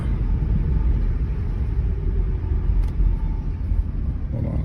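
Steady low engine rumble and road drone from inside a 1994 Toyota Starlet on the move, continuous and fairly loud throughout with no talking.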